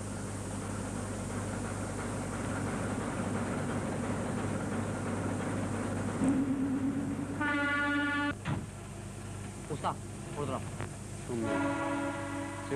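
A passenger train arriving at a station in a 1987 Albanian film, with a steady low rumble building beneath two or three loud horn blasts in the second half.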